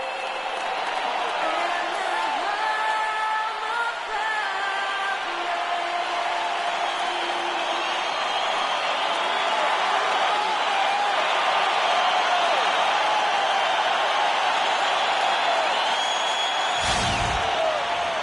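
Capacity arena crowd at the United Center in an NBA 2K playoff game, Magic at Bulls, roaring and cheering in a dense, sustained wash with scattered whoops, and a sharp knock near the end.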